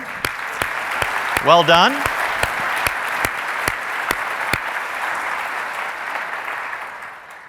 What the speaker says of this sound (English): So a big round of applause before questions for these gentlemen.